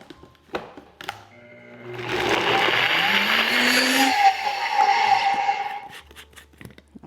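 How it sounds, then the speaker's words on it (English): A Ninja Creami machine blends a coffee ice cream base, starting after a few clunks into a loud, steady motor whir of about four seconds with a rising pitch, then winding down. "so now all we have to do is blend this. And this recipe is for the Ninja Creamy machine."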